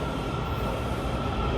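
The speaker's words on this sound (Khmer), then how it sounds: "រថភ្លើងនៅ DC" Washington DC metro train heard close up as a continuous low rumble and rolling rail noise, steady and fairly loud, with no voices over it.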